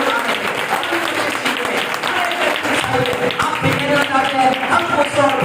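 Dense applause from a crowd fills the whole clip, steady rapid clapping that stays loud throughout, with voices mixed in.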